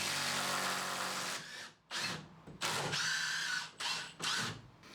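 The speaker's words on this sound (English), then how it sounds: "I'm removing the 4-inch screws." A power drill backs out 4-inch screws from wood on a truck bed load extender, whirring loudly in several close bursts separated by short pauses, with no voices.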